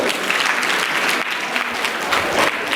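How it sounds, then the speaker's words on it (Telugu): A crowd of students at a junior college freshers party applauds loudly after a classical dance performance. The dense, sustained clapping is close and continuous for a few seconds, with no talk over it. "వైష్ణవి, తన గట్టిగా చప్పట్లు కొట్టాలి."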